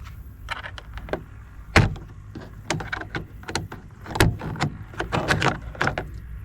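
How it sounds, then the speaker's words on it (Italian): Plastic trim inside a Fiat Ducato's driver door handle is pried and pulled off, giving a series of sharp clicks, snaps and rattling knocks at close range, irregular and fairly loud, with no voices. "Adesso togliamo la copertura di plastica all'interno della maniglia."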